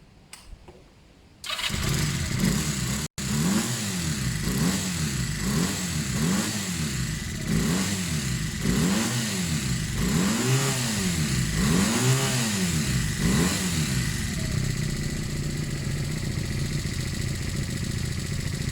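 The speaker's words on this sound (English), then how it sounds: "So I'm just going to idle it for a little while, give it a few minutes running. I'll rev it a little bit" A Honda CB250 Nighthawk motorcycle, a carb-cleaned cafe racer project, cranks and fires up, then idles with a steady throb broken by a series of rising and falling revs before settling back to idle, close and loud with no talk.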